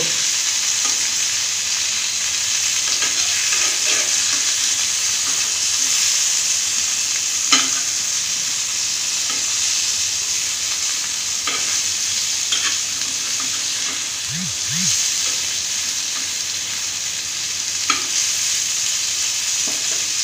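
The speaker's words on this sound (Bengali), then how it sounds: "সুন্দরভাবে ভাজা হয়ে গেছে, এবারে আমি তুলে নিব।" Rohu fish wrapped in leaves fries in a covered pan over a low gas flame, giving a steady, even sizzle throughout with a few faint clicks and taps of utensils.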